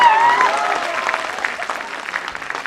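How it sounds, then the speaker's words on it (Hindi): A poetry recital audience bursts into steady, dense applause that slowly thins over a few seconds, with a voice briefly audible at the start. "अब तालियों को रोक कर रखना।"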